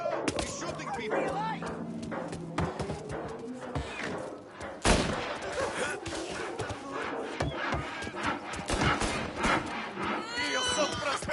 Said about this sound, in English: He's shooting people.